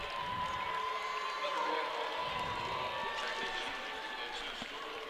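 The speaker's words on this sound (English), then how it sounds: "That draws a Bronx cheer from the Van Far student section" A high school basketball student section (Van-Far) lets out a derisive Bronx cheer in the gym, a mid-level wash of crowd jeering and shouting under a commentator's steady play-by-play.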